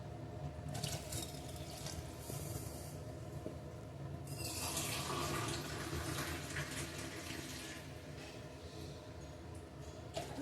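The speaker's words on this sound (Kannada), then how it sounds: "ಈಗ ನಾನು ಐದು ಕಪ್ಪು ನೀರು ಹಾಕ್ತಾಯಿದ್ದೀನಿ" Water poured from a cup into a pot of roasted moong dal for sweet pongal, a steady close splashing that runs through the whole clip and swells and brightens midway.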